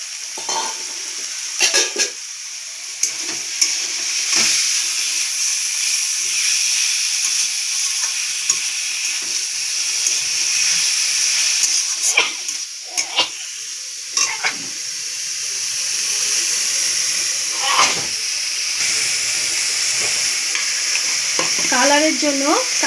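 Chicken mince stirred and frying in a pan with turmeric for chicken ghugni, a steady close sizzle with repeated scraping stir strokes and occasional clinks, no voices.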